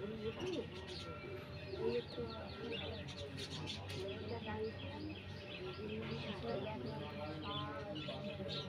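A pair of pigeons coo softly among chirping birds in a home aviary setup, steady murmuring calls under someone talking throughout.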